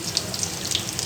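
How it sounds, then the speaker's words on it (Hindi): Chicken nuggets frying in hot oil, a brief, steady bubbling sizzle with fine crackling pops, close and moderately loud. "Now I'm gonna fry these nuggets."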